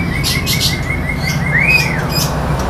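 A murai batu, or white-rumped shama, sings close by in clear repeated whistled notes and chirps, including a rising and falling swooping phrase, over a steady background hum with no talk.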